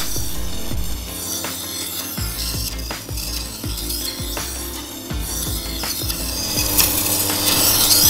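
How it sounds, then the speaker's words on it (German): Grinding the cutting edge onto a Damascus steel knife in a forge workshop, a steady close abrasive rasping with repeated scraping strokes and rhythmic mechanical clicks, growing louder toward the end. "Als letzter Arbeitsschritt wird die Schneide an das Damastmesser hingeschliffen."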